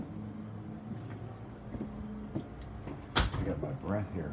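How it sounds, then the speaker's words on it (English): A door is pulled shut inside a house shortly after an earthquake near Willits, California, giving one sharp, loud thud late in the clip after low rumbling room noise and scattered knocks. "Okay, close this door."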